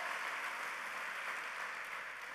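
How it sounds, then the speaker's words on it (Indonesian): A church congregation claps together during a worship service, a dense, even burst of applause from a large room, brief and steady without voices. "Tepuk tangannya yang paling meriah buat Tuhan kita"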